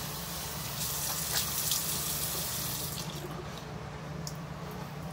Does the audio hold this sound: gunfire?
no